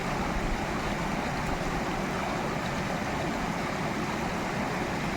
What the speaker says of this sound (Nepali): यो गोरुबथानको हाम्रो घरदेखिको तलको खोला हो